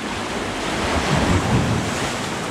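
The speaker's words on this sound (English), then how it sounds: "Big, big waves today." Big ocean waves crashing and surging at a sea glass beach near caves, a loud, continuous roar of surf close by with heavy wind buffeting the microphone.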